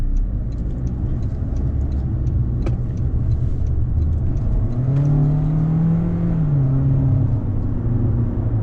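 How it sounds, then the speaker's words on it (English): A Toyota Corolla Cross LE AWD hybrid engine under load, a steady close rumble and whir that rises in pitch midway as the car accelerates, with no talk over it. "But when you have this engine under load, you're going to hear some noise."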